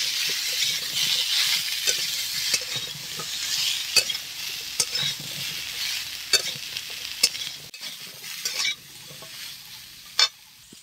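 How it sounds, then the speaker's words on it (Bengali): Boiled rice fries lightly with spices in a pan, giving a continuous sizzle broken by frequent sharp scrapes and taps of a spoon stirring against the metal, some of them louder knocks toward the end. "এখন দিয়ে দেবো সিদ্ধ করে রাখা চালটা, হালকা করে একটু ভেজে নেব চালটাটা।"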